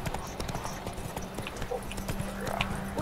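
Hooves of a video game horse named Roach clip-clopping in a quick irregular rhythm, close and moderately loud, with brief soft background sounds.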